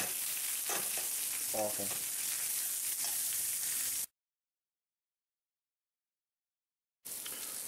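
Onions frying in butter in a pan, a steady dense sizzle with occasional stirring scrapes, close and continuous, breaking off into a few seconds of total silence before resuming, with one brief spoken word.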